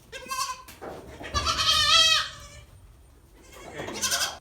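Goats bleat loudly and close by at a goat milking stand, several drawn-out wavering calls with a short pause before a final bleat.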